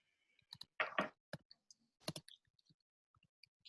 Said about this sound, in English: So I hear somebody typing.